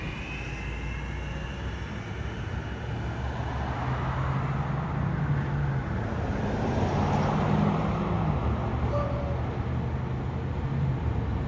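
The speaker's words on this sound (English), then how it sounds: "again. Bus 215." Bus 215, a city bus in Rialto, passes with a steady broad engine and road roar that swells through the middle and stays loud for the whole stretch, with no voices.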